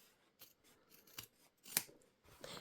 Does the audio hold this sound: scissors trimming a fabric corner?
yes